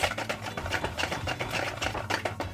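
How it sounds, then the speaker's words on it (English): Batter for deep fried Oreos being whisked and stirred in a bowl, giving close, steady rhythmic scraping and swishing strokes that repeat quickly and evenly throughout. "Now just keep on stirring."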